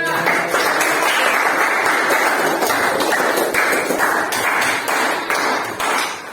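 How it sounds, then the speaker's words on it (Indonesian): A class of students claps for a classmate, close and loud, with some sharp individual claps falling into a loose rhythm throughout. "Oke, tepuk tangan untuk teman kita."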